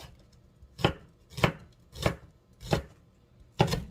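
A knife slices scallions on a cutting board, five evenly spaced, crisp thuds about two-thirds of a second apart, close and clear against near silence.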